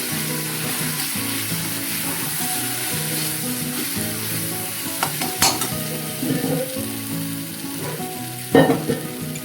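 Spices for egg curry sizzle and fry in a pan while being stirred, a steady crackling hiss with occasional scraping and clinks of the spoon against the pan, close up and with no talking.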